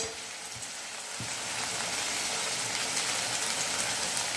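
Red chili powder and spices hiss and sizzle in hot oil in a village kitchen, a steady, bright frying crackle that swells slightly after the first second and holds evenly, no voices over it.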